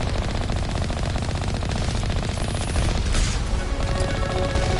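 Rapid automatic gunfire from turrets in the Mass Effect video game, a dense, continuous stream of shots and booms with no pauses, loud and busy throughout.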